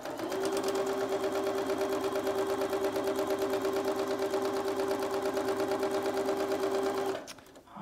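A sewing machine runs at a fast, steady rhythm while chain piecing quilt blocks, its needle chattering and motor humming loudly and close for about seven seconds before stopping abruptly, with no speech.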